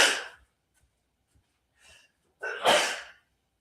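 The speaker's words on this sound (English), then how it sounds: "I have to sneeze." A single loud, close sneeze bursts out after a faint sharp intake of breath, with a couple of small breaths before it.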